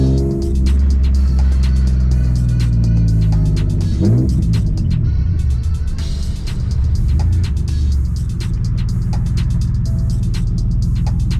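A Ford Taurus SHO with cheap coilovers accelerates hard while driving, its engine rumbling loud and close from inside the car, rising once in pitch around a gear change, then droning on steadily.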